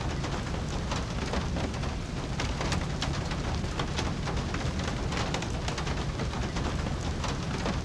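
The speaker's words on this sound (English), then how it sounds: "so glad to get out of the rain." Steady, dense rain in the video game Syberia pours continuously at an even loudness, a close hiss of drops on surfaces with no break and no talking.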